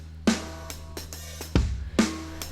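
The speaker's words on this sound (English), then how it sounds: "just some old regular acoustic style drums" Dry acoustic drum beat in a dark trip-hop style, with a few spaced kick and snare hits in a slow, loose groove, close and unprocessed, with no talk over it.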